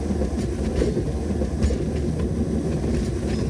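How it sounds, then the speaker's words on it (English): A toy or model train runs along its track with a steady low rumble and faint rhythmic clickety-clack, close and continuous with no talking. "It makes very authentic train noises."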